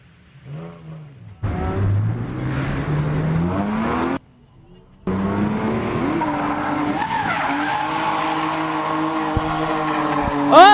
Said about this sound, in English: Tanner Emery throwing it in hot here as he comes through.